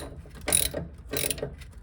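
A ratchet wrench tightens a 17 mm bolt on a ball joint of a 1981 Toyota Celica, giving two short bursts of clicking pawl strokes, close and clear, with no talking.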